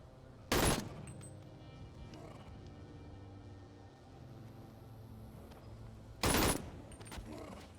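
AK rifle fire in the VR video game Bonelab, two separate loud bursts several seconds apart over a quiet background of faint mechanical clicks and handling noise.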